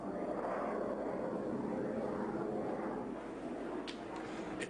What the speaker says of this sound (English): it is to the roar of bomber jets